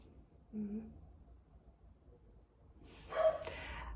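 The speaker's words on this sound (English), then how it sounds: "she's crated at the moment and she's not very happy, so she's barking" A crated puppy barking: faint, short yips and barks from somewhere in the background, one brief bark early on and a louder, sharper cluster a few seconds later, with quiet in between.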